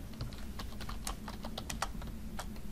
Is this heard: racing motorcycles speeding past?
no